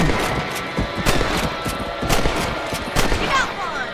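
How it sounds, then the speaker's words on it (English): Rifle gunshots while hunting rabbits in the video game Red Dead Redemption, several sharp cracks fired at an uneven pace over steady ambient noise, with some quieter shots in between. "You're a good shot, Mr. Marston. That rabbits didn't stand a chance"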